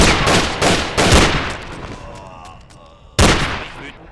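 Bursts of rapid gunfire in the game Mafia crackle in quick succession, fade to a quieter tail, then another loud burst cuts in near the end; close and harsh.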